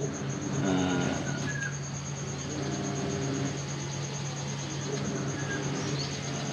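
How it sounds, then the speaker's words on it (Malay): Birds chirp and call outdoors over a steady hum and buzzing insects, with occasional short whistled notes in the distance. "Dengar bunyi burung."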